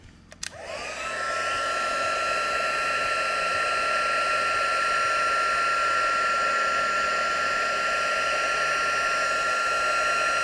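After a click, a heat tool starts up and blows a steady, loud, high whine for about ten seconds while melting embossing powder on stamped text.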